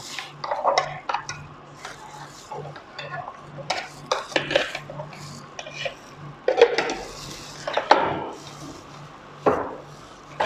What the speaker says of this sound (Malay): Bila sudah halus, saya kena kacau-kacau sikit